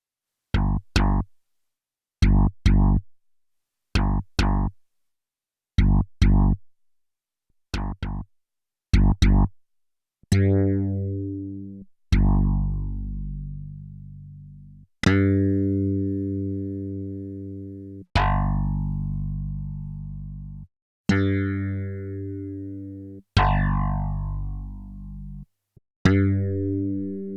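A Yamaha DX7 II synthesizer in unison mode plays a run of short, punchy staccato notes, then shifts to longer sustained tones that ring and decay, with no other sounds.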